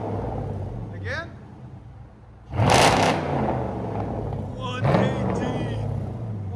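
A Dodge Charger SRT8 with a 6.1L V8 and Flowmaster Outlaw exhaust idles with a deep rumble, then revs in two loud, short bursts, with people talking over it.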